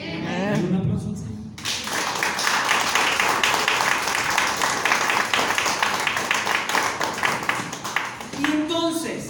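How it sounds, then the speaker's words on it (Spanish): After a voice finishes speaking, a church congregation breaks into rhythmic group clapping that continues steadily for several seconds, with a voice returning at the very end. "Un aplauso al Señor."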